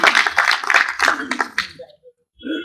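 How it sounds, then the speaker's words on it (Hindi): An audience at a Hindi comedy show bursts into dense applause that lasts under two seconds and then cuts off, followed by a short faint sound. "एक बार जोरदार तालियां अशोक भैया"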